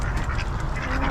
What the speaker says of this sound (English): They're the ducks.